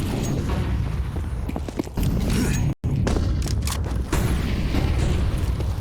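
Flashbang and smoke grenades go off during a Counter-Strike esports match, a loud rumbling boom with a hissing wash and scattered sharp pops that persists over the whole stretch, cut by a brief dropout in the middle.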